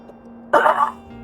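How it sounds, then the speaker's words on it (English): A single close, short throat-clearing cough bursts out of near silence, with a faint steady hum in the background. "Ooh, sorry if I keep coughing."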